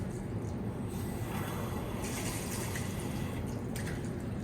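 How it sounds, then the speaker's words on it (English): Water rushing steadily into a gas water heater's tank after the purge valve is opened in a basement, a continuous broadband hiss with faint trickling and no talk over it. "So let's see if this thing fills up."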